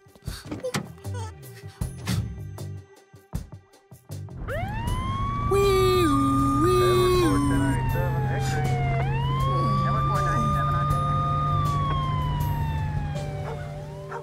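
A cartoon police car siren wails in an animated storybook, sounding after a few thumps and knocks, then rising and falling in long, loud sweeps that hold steady close by to the end.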